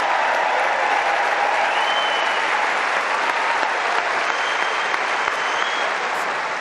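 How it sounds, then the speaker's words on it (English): Dense, steady applause from a large tennis crowd at Wimbledon for Taylor Fritz, a loud continuous wash of clapping with faint crowd murmur, sustained evenly throughout. "ladies and gentlemen, a round of applause for Taylor Fritz"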